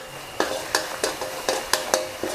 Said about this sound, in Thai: การจะใส่กระเทียมสับลงไปครึ่งหนึ่งนะคะ เนี่ยค่ะให้แบบหยาบๆแบบนี้นะรู้สึกเหนียวๆหน่อยค่ะ เบาไฟลงเลยค่ะ